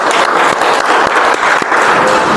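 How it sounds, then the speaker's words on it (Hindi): An audience at a stage event claps loudly and steadily as the organization's founder is welcomed onto the stage, a dense, continuous applause with no break. "एक जोरदार तालियां"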